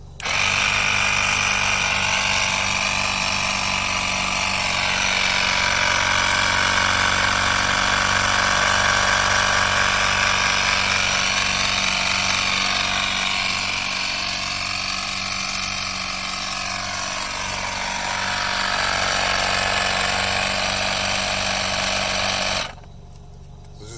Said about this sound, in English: we'll power up and charge it up and compress the air inside the tire